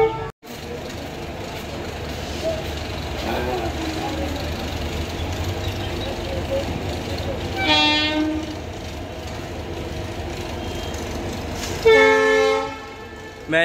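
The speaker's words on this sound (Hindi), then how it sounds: "मैं यहाँ पर संतरागाछी रेलवे स्टेशन पे हूँ और मैं यहाँ से ट्रेन पकड़ के जाऊंगा जगन्नाथ पुरी दर्शन करने" Train at Santragachi railway station in West Bengal: a steady rumbling rolling train with brief horn blasts around the middle and again near the end, loud and close, amid station ambience.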